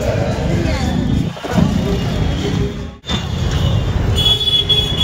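A Delhi metro train rumbles and squeals at Jama Masjid metro station amid heavy traffic, a loud, steady roar with wheel screech and a brief dip, people talking over it.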